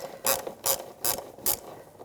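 A ratchet wrench loosens bolts on a 2009-2013 BMW 328i xDrive engine cover, giving four evenly spaced bursts of close, loud clicking with short pauses between them and no talk.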